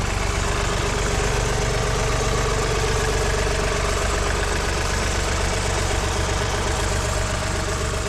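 Diesel engine of a John Deere 3046R compact tractor idling nearby, a steady low rumbling chug with constant loudness and faint rattling vibration throughout, no voices.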